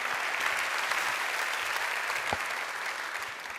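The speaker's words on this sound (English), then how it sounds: "please give a warm round of applause for Petr Cech." Warm audience applause at the UEFA Champions League group stage draw ceremony, a broad wash of clapping from a large hall crowd, fairly distant and even, easing slightly toward the end.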